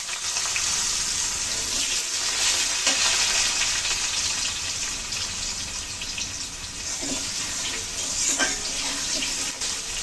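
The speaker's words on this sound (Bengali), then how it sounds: "ভালো করে একটু ভালো করে ভেজে নেব। আলুগুলো ভালো করে ভেজে নিলাম।" Cut potatoes frying in oil in a pan for a cabbage ghonto, a dense, continuous hiss and sizzle close by with occasional soft stirring knocks and no speech.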